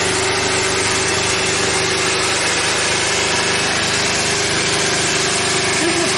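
A Francis turbine trainer runs steadily at 1500 RPM in open circuit with no load, giving a loud, constant mechanical hum and whir with a faint steady tone, unbroken for the whole stretch and without voices.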